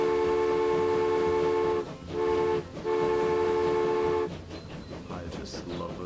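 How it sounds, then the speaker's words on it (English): Steam locomotive whistles in the game Transport Fever 2 sound in long sustained harmonic blasts, two longer blows split by short breaks, then fading into rail noise. "even just the sounds and the whistling of the engines"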